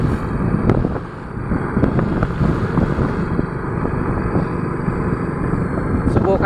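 A motorcycle climbs a steep mountain road, its engine droning continuously beneath heavy wind buffeting on the microphone, with a rider's voice occasionally audible over the steady ride noise.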